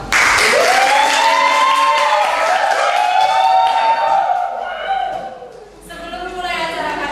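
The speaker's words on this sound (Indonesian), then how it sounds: "Beri tepuk tangan untuk kita semua." Audience applause at an Indonesian public speaking discussion event, loud and dense from the start, with voices and whoops riding over the clapping before it thins out near the end.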